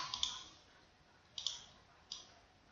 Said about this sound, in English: So I click on the picture and use my arrow keys